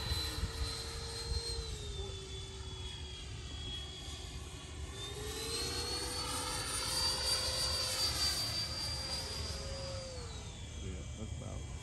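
A Freewing T-45 Goshawk 90mm electric ducted fan RC jet flies past with a loud, steady whine whose pitch slides up and down as the throttle changes, under constant wind and buzz, no voices.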